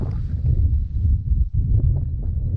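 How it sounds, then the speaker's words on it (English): Strong wind buffets the microphone in low, rumbling gusts at a paragliding launch site, with a brief lull midway before the blustering resumes. "It's pretty windy."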